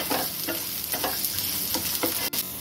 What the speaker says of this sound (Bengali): গ্যাসের ফ্লেমটাকে কমিয়ে দিয়ে সব কিছু একসাথে মিশিয়ে একটু সতে করে নেব।